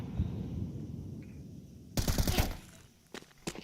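Rapid pistol gunfire in a Counter-Strike match at a professional tournament: a dense burst of sharp shots about halfway through, then a few isolated louder cracks, over a low background bed.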